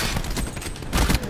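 Shotgun blasts in Call of Duty Black Ops 4, a loud, close burst of gunfire with a heavy second boom near the end, under busy combat noise.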